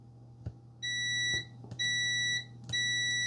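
A multimeter set to continuity, probing a Nintendo 64 during restoration, gives three clear electronic beeps, each a sustained tone lasting about half a second to a second, separated by short gaps and probe clicks over a low hum.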